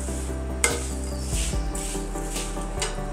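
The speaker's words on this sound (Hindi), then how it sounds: "इसके बाद मैं ये चने की दाल डाल रही हूँ। इसको ऐसे मिक्स करेंगे।" Chana dal being stirred in a pan for chivda, with soft scraping and a few clinks of a spoon against the pan under a faint sizzle.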